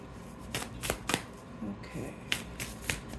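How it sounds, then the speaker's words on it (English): A deck of tarot cards is shuffled by hand close up, a quick series of sharp riffling bursts and soft slides with short pauses between them. "they kind of had me shuffle differently"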